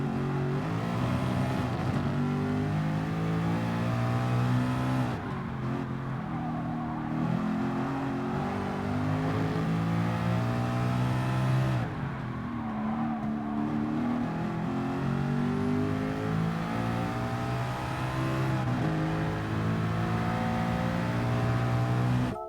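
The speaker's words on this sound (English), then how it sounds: "This car is too loud." Race car engines in the video game Gran Turismo Sport roar and rev continuously, with rising and falling pitch through gear shifts and brief dips, loud and close with no talk over it.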